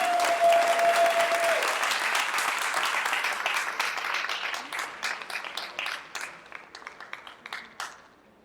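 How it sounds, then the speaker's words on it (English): An audience at a LinkedIn meetup evening event in New York applauds the main sponsor: a dense, sustained burst of clapping that gradually thins into scattered individual claps and fades out. "round of applause for our main sponsor of the evening, Mr. Ephraim Arnstein"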